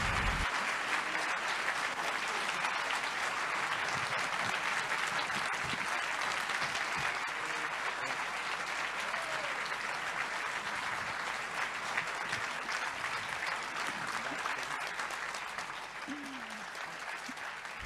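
An audience at a presentation applauds, a dense, steady wash of clapping that holds for the whole stretch, loud and even, easing slightly near the end.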